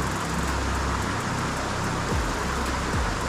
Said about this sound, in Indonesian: Turun hujan ni